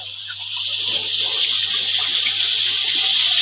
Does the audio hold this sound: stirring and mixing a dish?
no